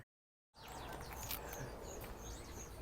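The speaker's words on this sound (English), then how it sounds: "just the birds are noisy" Several birds chirp and tweet outdoors in quick overlapping calls over a steady background hum, after a short silent start.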